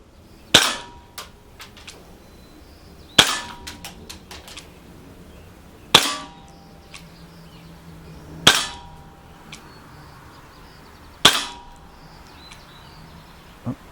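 Umarex SA177 and 9XP BB pistols fire five sharp, loud shots outdoors, evenly spaced a few seconds apart, each crack ringing briefly before quiet returns.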